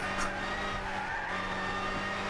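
Tire burnout of a pickup truck in Gran Turismo 6, a continuous screeching squeal with a steady engine drone underneath, sustained throughout.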